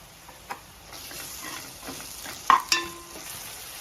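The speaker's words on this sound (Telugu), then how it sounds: "పాన్ పెట్టేసుకొని అందులో ఒక హాఫ్ కప్ నువ్వులు వేపేసుకుందాం." Sesame seeds fry with ginger garlic paste in a pan, giving a soft, steady sizzle under light scraping and ticking as a utensil stirs, with a couple of sharper clinks near the end.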